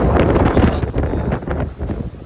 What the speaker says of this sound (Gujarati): હા જોઈ લો ખતરનાક વાયરો આવે છે